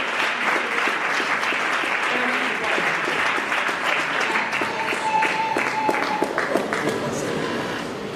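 Sustained audience applause fills a hall at a gospel music awards show as a female singer makes her way to the stage, steady and dense throughout with some voices mixed in.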